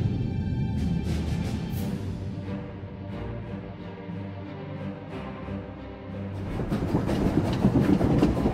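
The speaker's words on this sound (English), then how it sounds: "The train is on the move, and the traitor's on board." Umbaran supply train rolling along in Star Wars: The Old Republic, a steady loud rumble with rhythmic clickety-clack of wagons on rails, swelling louder toward the end with no talking.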